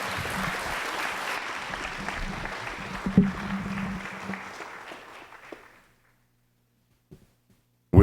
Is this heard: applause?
yes